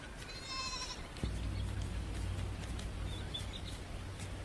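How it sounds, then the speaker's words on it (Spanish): Goats bleating among the rocky cliffs of Ethiopia's Simien Mountains, a faint bleat early on over steady wind-like outdoor noise, with a thump and low rumble running beneath. "Las cabras corretean con soltura entre riscos y peñascos."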